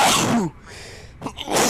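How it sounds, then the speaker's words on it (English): A single loud, close human sneeze, a sharp burst followed by a brief quieter pause and a second strong exhale, heard in a flight-sim cockpit setting over radio chatter. "Wow, that's a big sneeze."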